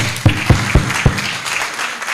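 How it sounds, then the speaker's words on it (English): Conference audience at a university event gives a brief round of clapping: a few loud, distinct claps open it, then a softer scattered patter fades out, with no voices. "I request the audience to give them a clap"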